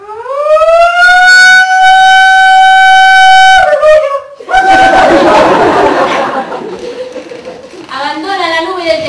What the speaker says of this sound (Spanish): Suena la sirena.